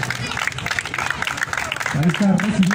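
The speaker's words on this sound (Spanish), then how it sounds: "Un aplauso." Applause breaks out as the Galácticos team collects its third-place trophy at a league awards ceremony, a brisk patter of clapping, with a voice speaking over it near the end.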